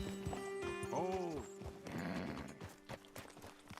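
Horses in Red Dead Redemption 2 clip-clop along at a steady trot with an audible neigh, close and fairly quiet, over a low game ambience.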